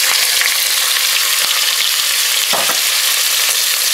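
Onions with kalonji frying in hot oil, a loud, dense, continuous sizzle heard up close with a brief scrape of stirring partway through and no talking.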